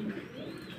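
Pigeons coo softly in a brief, faint low murmur, with no voices.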